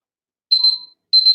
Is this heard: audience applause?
no